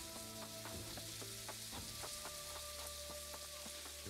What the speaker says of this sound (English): Refreshing rain.